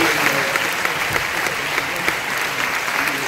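A Cannes Film Festival Un Certain Regard award audience applauds, with dense, steady clapping throughout at close range.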